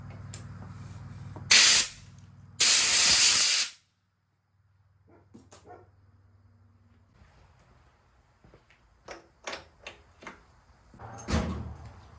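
Compressed air blasts into the spark plug hole of a Big Ten mower engine in two loud hissing bursts, about a second each, followed by quieter clicks and handling sounds.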